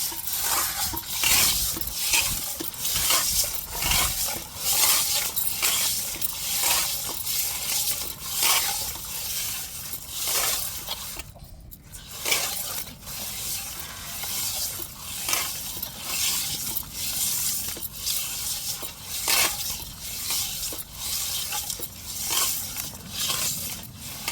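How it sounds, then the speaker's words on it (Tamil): Fish is rubbed and scrubbed with coarse rock salt in a kitchen, giving a steady run of close gritty scraping and rasping strokes that keep going with a short pause partway through. "இப்போ நல்லா உப்பு கல் போட்டு உரசி கழுவுவோம்"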